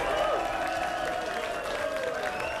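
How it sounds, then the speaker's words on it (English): Crowd at a 2007 pool tournament in Gardena, California applauding, a soft steady patter of clapping beneath a commentator's voice. "An appreciative crowd here in Gardena, California, just outside of Los Angeles"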